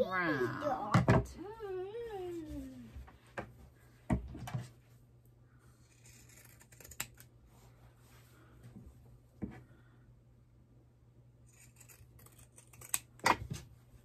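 Scissors snip through the fabric edges of a sewing-machine-lined knit or crochet bag, giving sharp isolated cuts near 1, 4.5, 9.5 and 13.5 seconds over a low steady hum, with a brief vocal sound at the start.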